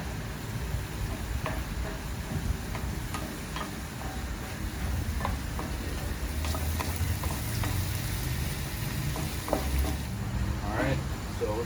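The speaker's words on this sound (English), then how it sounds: "We're going to let those cook for a couple of minutes, and I'm going to keep tossing them and stirring them" Shrimp sizzle in a hot pan while being tossed and stirred, a steady frying hiss close by with scattered light ticks and scrapes of utensils, no talking.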